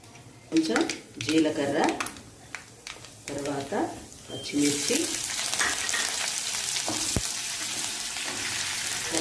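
Mustard seeds fry in hot oil with a dense sizzle and crackle that builds and holds steady, while a voice talks over the first half with a few utensil knocks.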